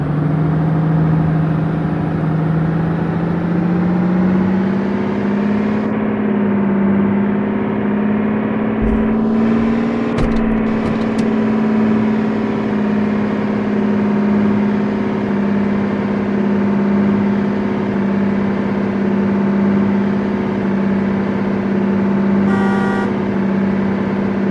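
A coach bus engine from a bus driving video game drones steadily and loudly throughout, its pitch rising slightly early on, with a brief clunk near the middle and no voices.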